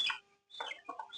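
Farm chickens give short clucks in two quick bursts separated by a brief pause, close and fairly clear with no talking.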